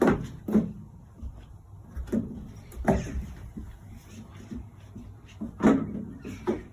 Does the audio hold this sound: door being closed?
yes